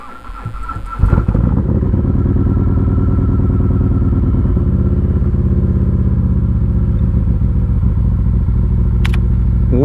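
A Harley-Davidson motorcycle engine starts up and settles into a steady, loud, close idle with a low, throbbing rumble that holds for several seconds.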